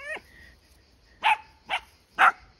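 A mother dog travelling with three puppies and three goats gives three sharp, separate barks, fairly close and loud, with a faint high whine at the start and a quiet outdoor background in between.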